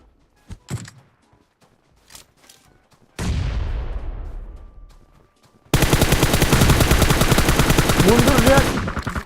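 Gunfire in the mobile battle-royale game PUBG Mobile: a few scattered single shots, then a loud heavy burst that rings out and decays, followed by a long sustained rapid-fire stream of automatic shots close by.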